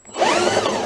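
A power drill spinning a junk lawn mower's engine whirs up to speed in a short, loud, steady spin, its whine rising briefly before holding.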